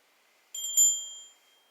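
An old heirloom bell from a family collection is struck twice in quick succession, giving a bright, clear metallic ring that sustains and fades over about a second in a quiet room.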